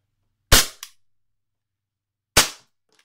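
KWA SIG Pro SP2022 gas blowback airsoft pistol using AB Brut Sniper gas and 0.20 g BBs, firing two sharp, loud, close cracks about two seconds apart, the first with a quick slide clack after it.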